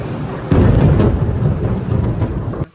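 An early summer thunderstorm brings a loud, rolling crack of thunder over steady heavy rain. The rumble swells suddenly, lingers, then cuts away.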